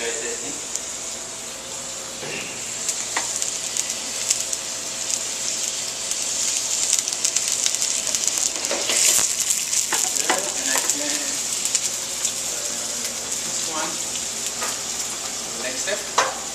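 Meat sears in a pan with mustard in a professional kitchen, giving a steady close sizzle and frying hiss throughout, with occasional stirring clatters and scrapes of a utensil against the pan.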